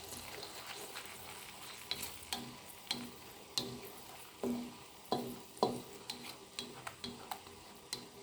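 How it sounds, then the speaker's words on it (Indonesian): Ground spice paste with bay leaves and lime leaves stir-fries in a pan with a soft, continuous sizzle. Quiet, irregular ticks and scrapes of stirring repeat through it. "kita tumis sampai airnya menyusut ya"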